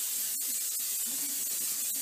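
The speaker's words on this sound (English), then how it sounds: "you want to be sure to spray your pan with some form of cooking spray" Cooking spray hisses onto a brownie pan in a home kitchen in a few short, soft bursts spread over a quiet background.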